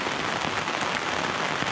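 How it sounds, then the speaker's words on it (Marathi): Heavy rain pours steadily near a small stream in the Konkan region, a dense, loud, even hiss of drops hitting the surface with no voices. "तसा पाऊस पण आपला विचार करतो आणि जोरजोरात पडायला सुरुवात करतो"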